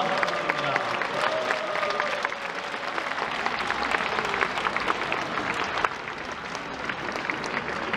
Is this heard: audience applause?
yes